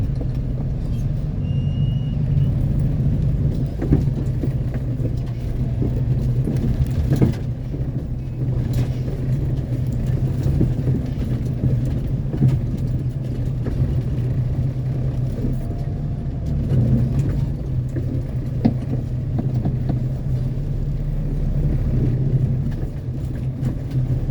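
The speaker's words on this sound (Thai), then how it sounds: "วิ่งไม่ได้หยุดได้หย่อนเลยนะครับ รถไถนี่" A tractor's engine runs steadily with a low, continuous rumble while working on digging a deep pond, loud and close throughout with minor fluctuations and occasional knocks.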